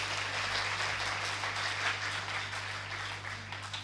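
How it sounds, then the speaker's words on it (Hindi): Audience applause at a Hindi poetry gathering (kavi sammelan) at AIIMS, a dense, steady wash of many hands clapping together for about four seconds over a low hum, with no voices. "एक बार ताली बजा दीजिए"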